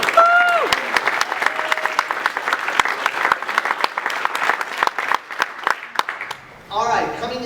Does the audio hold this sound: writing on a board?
no